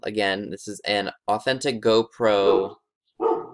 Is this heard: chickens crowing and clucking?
no